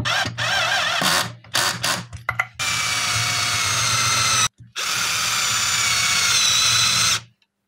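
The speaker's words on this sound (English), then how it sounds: "This drill is fucked." A faulty power drill bores into a taxidermy base, whirring loudly in short stop-start bursts, then two long sustained runs with a brief pause between, close up and without speech.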